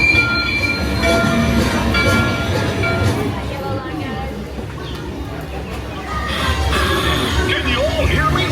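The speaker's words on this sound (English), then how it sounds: "Want to take a ride on the train?" A ride train at Mickey & Minnie's Runaway Railway rumbles steadily along its rails up close, with a continuous heavy roar and faint high squeals from the wheels.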